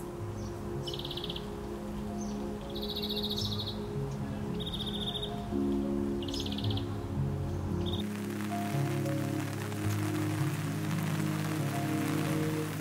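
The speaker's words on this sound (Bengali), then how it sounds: "দেখেন ওয়েদারের কথা বলতে বলতে অলরেডি বৃষ্টি শুরু হয়ে গেছে।" Rain falling at Khoiyachora waterfall in a forest setting, a steady wash of droplets that grows heavier and denser partway through, with insects chirping and occasional bird calls early on, and no talking.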